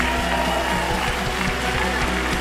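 A church congregation at New Hope Urbandale claps steadily and densely for a couple of seconds, with a low musical hum underneath.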